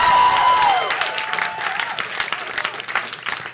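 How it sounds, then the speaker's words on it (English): A stand-up comedy audience breaks into applause, a loud wash of clapping right after a short tonal sound at the start, gradually thinning over a few seconds. "so let's clap it up"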